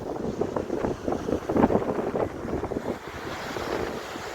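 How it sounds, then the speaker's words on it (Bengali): Gusty morning wind rushes and buffets steadily through a casuarina grove at Digha, with a low rumbling roar and no voices. "সকালে ঝাউবনের হাওয়া দারুণ লাগছে"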